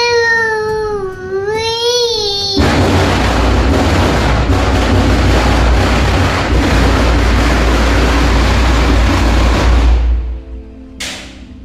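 Firecrackers go off outdoors at night in a loud, continuous crackling roar lasting several seconds. A small child cries just before the barrage begins, and the noise cuts off abruptly near the end.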